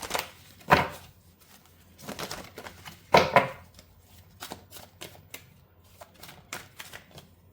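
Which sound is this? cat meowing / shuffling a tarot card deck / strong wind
shuffling a tarot card deck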